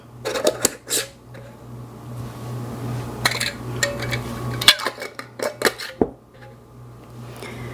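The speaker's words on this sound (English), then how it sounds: "Now we're going to put a lid on it." A regular lid put on a glass mason jar of homemade sauerkraut, heard as a series of close, sharp clinks and metallic taps of lid against glass over a low steady hum.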